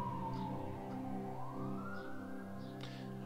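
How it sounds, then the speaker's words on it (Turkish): A fire engine siren wails near a house from a station very close by, its tone sliding down and then climbing again in a slow sweep, heard faintly through the walls. "Ambulans değil bu arada. İtfaiye evimin yakında, çok yakında itfaiye var."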